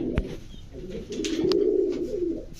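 Pigeons cooing at a Bangladeshi market stall selling gola, lokkha, giribaz and shirting breeds, a steady low warbling coo rolling continuously at close range with a couple of sharp background knocks.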